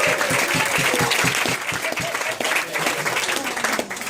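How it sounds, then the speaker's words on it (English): A room full of people at a 60th birthday celebration claps in sustained applause, dense and steady, lasting several seconds. "So a round of applause for Sophie."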